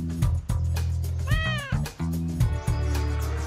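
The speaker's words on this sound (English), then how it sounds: "You see that cat trying to get out?" A cat meows in the PS2 video game Dog's Life, a single drawn-out rising meow in the middle set against looping game music and other in-game noises.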